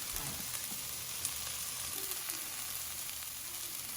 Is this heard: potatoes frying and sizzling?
yes